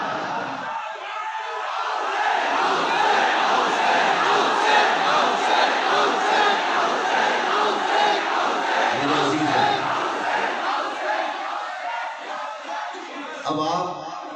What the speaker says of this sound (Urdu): پوری گلی سے لے کر یہاں تک یا حسین کے نعرے لگ رہے ہیں۔